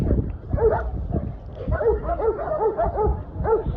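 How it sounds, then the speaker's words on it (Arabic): A dog plays and moves about in a show ring at a pit bull and Rottweiler dog show, giving a run of short, repeated yips and barks that stand out close over a noisy, murmuring background. "ده كده الكلب كان بيلعب معانا في الرينج"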